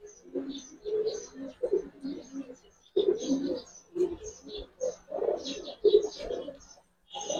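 Giribaz pigeons at a pigeon farm coo steadily in soft, low, throaty phrases that repeat one after another with brief pauses, close by and moderately loud.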